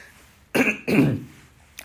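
A priest with a cold gives two close, rough throat-clearing bursts in quick succession, followed by a faint click.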